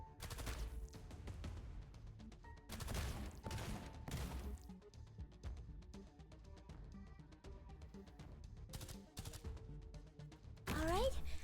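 Video game gunfire barrage: bursts of rapid automatic fire and impacts arrive in several loud clusters, with music and game sounds between them and a voice calling out over the action.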